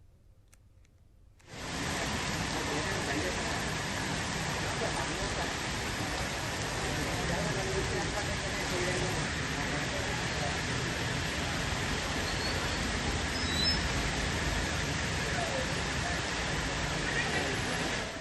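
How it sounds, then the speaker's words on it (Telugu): Heavy, steady downpour in Madhurawada, Visakhapatnam, during Cyclone Montha, a dense continuous roar of rain starting abruptly after a brief quiet moment and holding loud and unbroken throughout. "మోందా తుఫాను ప్రభావంతో విశాఖ మధురవాడలో కుండపోతగా వర్షం కురిసింది"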